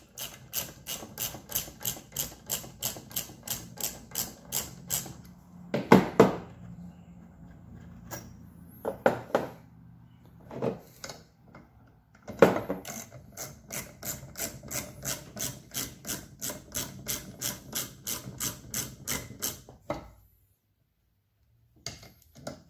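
Rapid ratcheting clicks from a ratchet wrench loosening the 10mm brake caliper bracket bolts on a 2005 Dodge Ram 1500 4x4, close and dry, running in long even bursts broken by a few louder clanks and knocks, with no talking.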